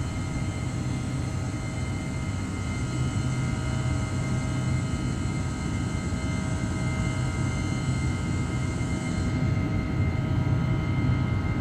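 Simulated Airbus A318-100 jet climbing out of Bilbao after takeoff with flaps up, a steady broadband engine roar with a low rumble and faint tonal whine holding continuously throughout.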